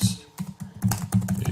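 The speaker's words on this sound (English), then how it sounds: "Oh, I can just type it right there." Keys clatter on a computer keyboard in a quick series of close, crisp taps with brief pauses between bursts, no voices over them.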